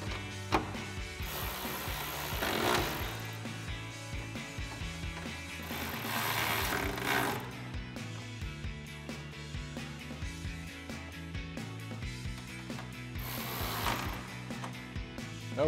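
Ratchet clicking in bursts as bolts are tightened on a 2009-2014 Ford F-150 upper replacement grille, three rapid rasping runs separated by quieter rubbing and handling noises.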